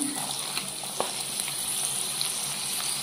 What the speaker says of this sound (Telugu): ఇప్పుడు ఆయిల్ ఎడెక్కిందండి. ఉల్లిపాయలు వేసుకున్నాం.